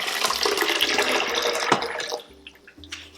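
Water pours steadily into a blender jar for a yogurt drink, a loud gushing splash that stops abruptly, followed by light knocks and small drips.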